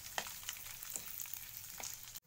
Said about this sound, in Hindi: इन्हें हम 2 मिनट के लिए अच्छी तरह से फ्राई करेंगे।